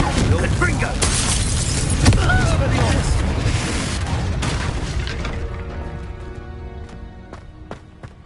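A Confringo blasting spell goes off in Hogwarts Legacy: a loud burst of booming, crackling noise that slowly fades, with game voices and a musical tone lingering underneath.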